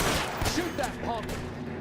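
Rapid bursts of gunfire in the video game L.A. Noire, loud and dense with broadband cracks throughout, mixed with shouted voices over the shooting.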